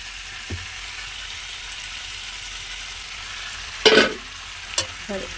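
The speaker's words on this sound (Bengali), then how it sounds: "এইটা একটুখানি নাড়াচাড়া করে নিই" A fish head with spices fries in a pan as it is stirred, giving a low steady sizzle broken by a few sharp utensil scrapes and clatters near the end.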